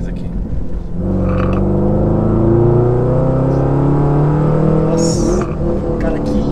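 A 2011 Camaro SS V8 with a modified exhaust roars loudly nearby, its deep rumble climbing steadily in pitch as it revs. Voices murmur faintly beneath, and a brief higher mechanical whir cuts in near the end.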